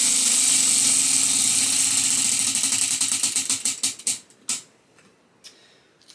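A prize wheel spinning fast with a dense ticking rattle that gradually slows into separate clicks before stopping, followed by a couple of faint later ticks.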